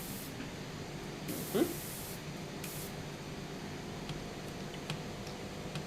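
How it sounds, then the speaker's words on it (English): A Gundam Marker airbrush gives short hissing bursts of spray onto a tissue, two brief puffs against a faint steady background hiss. "It's kind of spraying"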